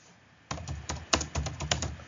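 A name is typed on a computer keyboard: a quick run of close, crisp key clicks in an uneven rhythm after a short quiet start.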